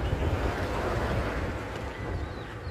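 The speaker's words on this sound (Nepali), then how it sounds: "अब हावा पनि चलिरहेछ" Wind blows outdoors during an evening walk, a steady low rushing and buffeting noise with no voices.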